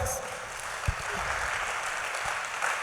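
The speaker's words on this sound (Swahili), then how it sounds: "Pigia Yesu makofi." A church congregation claps together in a steady, dense patter that fills the room at moderate volume, with a few stray thumps.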